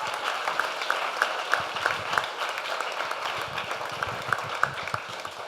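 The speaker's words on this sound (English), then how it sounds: "Let's give it one more round of applause for that." Audience applause during a real estate agents' masterclass session in Orlando, a steady moderate round of clapping with faint voices mixed in and a few sharper claps standing out.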